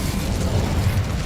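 Incendio fire spell cast in Hogwarts Legacy: a dense, continuous low roaring burst of flame with crackling texture, loud and steady throughout the short moment, with no talking.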